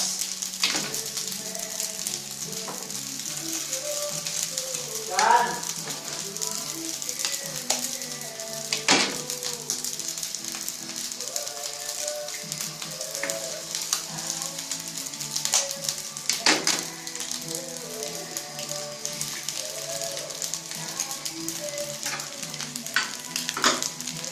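Eggs frying in a pan in a home kitchen in the Philippines, a steady bright sizzle throughout with small pops and occasional scraping stirs, close and continuous.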